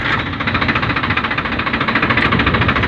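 A Farmtrac 60 tractor fitted with a T20 gearbox runs in first gear, its engine a loud, steady, close chugging drone with a fast, even pulse throughout.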